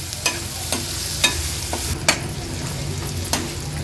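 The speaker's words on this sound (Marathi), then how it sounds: "तो ह्या फोडणीमध्ये छान शिजवून घ्यायचा आहे" Onions sizzle steadily over a low flame in a hot oil tempering, interrupted every second or so by the scrape and clink of a spoon stirring the pan.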